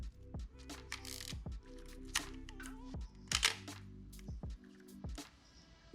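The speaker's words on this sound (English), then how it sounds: "That shutter sound." Minolta XG-M film camera shutter fires repeatedly up close, several crisp mechanical clicks with a short whirring wind between shots, fairly quiet in a still room.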